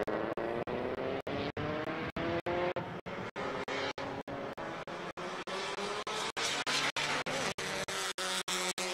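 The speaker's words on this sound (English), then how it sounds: "Once again, very, very cool to see a Prelude out here on track." A Honda Prelude race car on a hot lap at Circuit of the Americas during a Super Lap Battle event, its engine note loud and steady with rising and falling revs and regular shift breaks, tyres faintly squealing.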